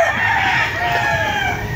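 Chickens and a rooster crow at a game fowl farm, a loud, close, sustained crow with clucking poultry around it, with no voices over it.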